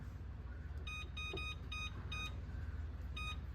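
A kitchen timer is being set again while spaghetti squash cooks, giving several quick bursts of high electronic beeps, close and clear over a steady low background hum, with no talking.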